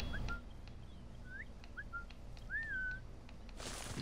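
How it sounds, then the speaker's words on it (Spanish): Several short rising and falling whistles from a character in Assassin's Creed Origins, clear and moderately near, spaced irregularly over a low game ambience, ending with a burst of noise. "Podía silbarle."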